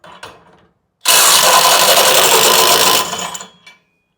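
DeWalt impact driver breaking a bolt free lets out a loud rapid hammering burst lasting about two seconds, then trails off briefly, with faint clicks and handling noise before it.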